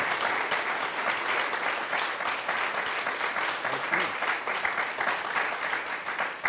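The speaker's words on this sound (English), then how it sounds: "Let's give them a round of applause" A press club audience applauds a faith and advocacy panel, steady dense clapping from many hands holding an even level throughout, with no voices over it.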